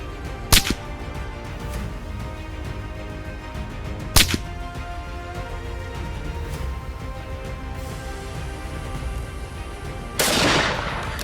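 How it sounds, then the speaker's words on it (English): Two sharp shots from an AR-15 semi-automatic rifle crack out a few seconds apart over a quiet outdoor hum during a wild hog hunt, followed by a brief burst of rushing noise near the end. "the semi-automatic fire of the AR-15"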